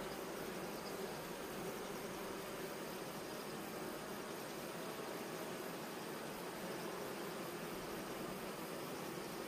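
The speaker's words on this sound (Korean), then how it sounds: "계속해서 지금 일벌이 공격하고 있는 중이고" Honeybee workers attacking a virgin queen in a hive give off a steady, dense buzzing hum that stays unbroken and even throughout, with no voices over it.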